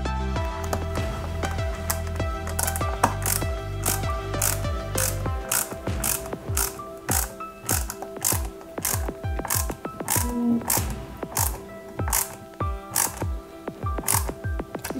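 Oiled screws driven into parts of a Starsky and Hutch Ford Gran Torino scale model: close, rapid ratcheting clicks in repeated bursts with short pauses, no voices.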